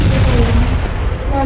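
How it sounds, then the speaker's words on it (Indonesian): Gunfire rings out during a Dutch army attack in the Aceh war, heard as a dense, continuous rumbling barrage of booms and shots with no clear gaps. "Ini kenapa di luar banyak ada tembakan?"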